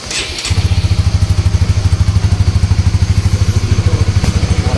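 A 150cc motorcycle engine runs up close in a quick sound check, its loud, rapid, even exhaust pulses chugging steadily throughout with a brief higher-pitched blip near the end.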